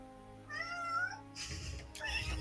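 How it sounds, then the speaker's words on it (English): A cat meows once, a drawn-out rising-and-falling call, followed by noisy bursts and a second shorter, fainter mew over a steady hum. "Oh my god, there's a cat!"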